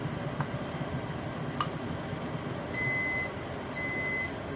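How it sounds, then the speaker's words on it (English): Two short electronic beeps from a kitchen pasta timer, faint against a constant droning background hum. "Must be my pasta timer."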